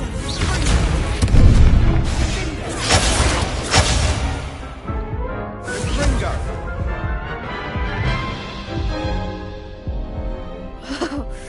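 Confringo blasting spells explode during a Hogwarts Legacy dueling fight: heavy booms and crashes land in a cluster near the start and then ease into lighter blasts, with a character's voice shouting among them.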